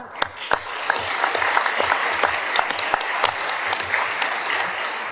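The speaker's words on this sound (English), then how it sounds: "join me in a round of applause for their interventions" Conference audience at Palazzo Valentini in Rome claps for a panel of speakers, dense and close with sharp individual claps standing out, steady throughout without talk.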